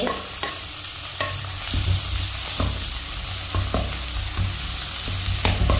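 Tomatoes tossed into a hot pan with mussels for a roast, loud close sizzling with repeated sharp scraping and stirring knocks of a spatula at irregular intervals, no voices.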